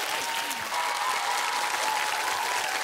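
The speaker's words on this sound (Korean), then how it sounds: "남희석 씨에게 여러분 격려의 박수를 보내주세요" A studio audience on a KBS television show gives loud, dense, continuous applause throughout, with a faint steady tone running underneath.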